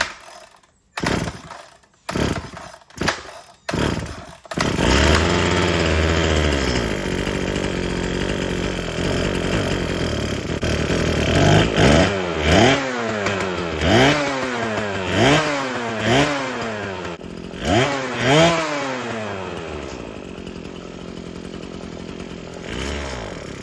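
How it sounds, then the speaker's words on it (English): A small two-stroke weed eater engine after a choke repair, first sputtering through several short failed pulls, then catching and running loudly and close, with a buzzing idle broken by repeated rising revs. "motor runs great"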